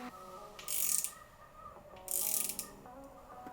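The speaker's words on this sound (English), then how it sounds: "use as a standard ratchet tool" Granite Design Duet double ratchet tool clicking in two short bursts of quick, crisp close-up ratcheting with quiet gaps, no voices.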